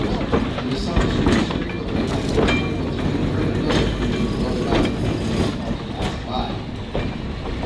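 A vintage electric trolley car rolls along a street railway, with a continuous rumble of wheels on track, periodic clicks over rail joints and faint squeals, steady and fairly close throughout.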